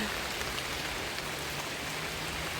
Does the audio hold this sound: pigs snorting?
no